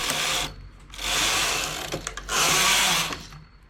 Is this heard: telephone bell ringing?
no